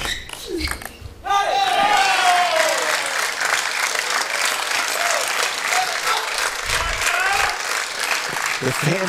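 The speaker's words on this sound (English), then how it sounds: "The fans have really gotten into this match and cheering for the youngster, Kanak Ja." A crowd at the 2016 national table tennis championship final breaks into sustained loud applause and cheering. The applause begins abruptly and carries on steadily, with a commentator talking over it.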